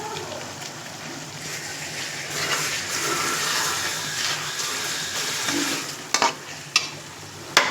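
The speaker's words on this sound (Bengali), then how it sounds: "ভালো করে কষাবো।" Spice masala for keema chana is stir-fried in a pan, giving a steady close sizzle under repeated scraping strokes, with a few sharp clanks of the spoon near the end and no speech.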